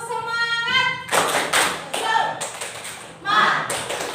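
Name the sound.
class clapping a rhythmic 'tepuk semangat' spirit clap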